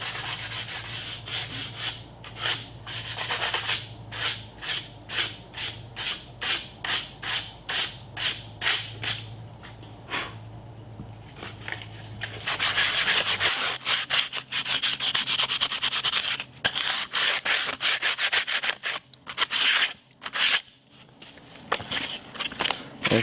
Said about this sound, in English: So all we're going to do is just sand it. Some sandpaper, just gradually